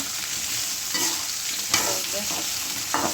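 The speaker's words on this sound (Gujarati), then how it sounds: "હવે આપણે ભીંડાને નાખી દઈશું। ભીંડાનો આપણે લેસ બારવાનું છે। મીડિયમ ગેસ રાખીને ભીંડામાં જે લેસ હોય છે, ચીકાશ તેને આપણે કાઢવાની છે।" Okra (bhindi) fries in a pan over medium gas, a loud close sizzle broken by several scraping stirs. The stirs come at a loose, uneven rhythm with no voices.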